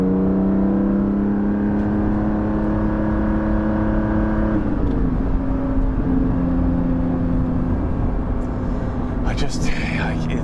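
Cabin sound of a Porsche 718 GT4 fitted with a Soul exhaust: a loud, sustained engine note with clear harmonics that drop and resettle midway, close up throughout the drive with a faint voice under it.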